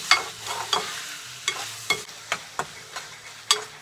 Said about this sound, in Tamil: ஒரு 2 நிமிஷம் இந்த தக்காளி நல்லா வேகட்டு.